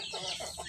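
Domestic country chickens on a small backyard farm give a brief, faint burst of soft clucking, less than a second long, with no voices.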